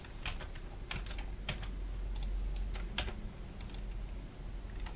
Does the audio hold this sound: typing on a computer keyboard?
yes